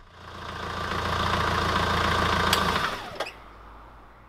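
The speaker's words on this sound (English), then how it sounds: "fired the damp shaky diesel up for a few minutes to dry off any excess water" A damp diesel engine with 120K miles runs at a steady, rattly idle for a few seconds after an engine bay wash, then shuts off with a couple of clunks, leaving quiet.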